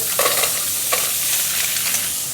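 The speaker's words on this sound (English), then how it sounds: "I'm going to introduce the mussels, and you can hear it sizzle away" Mussels sizzle and crackle loudly in hot oil in a pan, a dense steady frying hiss with a few sharper pops and stirring scrapes.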